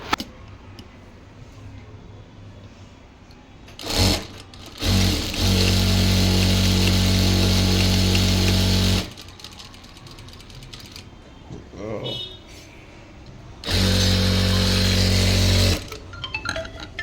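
An Usha power sewing machine, second-hand, stitches in two loud sustained runs of steady mechanical whirring and clatter, separated by quieter handling noises and brief ticks.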